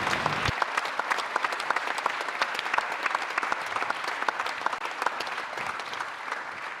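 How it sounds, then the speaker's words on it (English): Audience applause at the Freedom Games 2023 event in the Machine hall, honouring Polish judges: dense, steady clapping from a crowd that holds for several seconds and fades slightly at the end. "And a round of applause for Polish judges."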